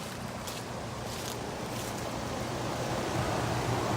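A 3-ton 2007 Rheem Classic heat pump runs outdoors in heat mode, giving a steady, quiet fan whoosh over a low hum that holds even for the whole stretch, with no voices.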